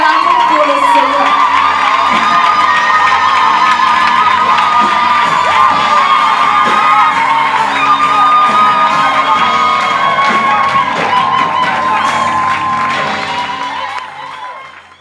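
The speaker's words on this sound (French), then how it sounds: "Je vais inviter Alia, lorsqu'elle avance, nous acclamons pour le Seigneur." A church congregation cheers and whoops loudly in acclamation, a dense crowd roar with high shouts and scattered applause that holds steady before fading out at the end.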